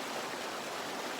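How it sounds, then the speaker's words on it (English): A stream flowing beside a campground in the Grampians, a soft steady rushing and babbling of water, continuous and gentle, heard alone without voices. "the sound of the water flowing from where our camp spot is"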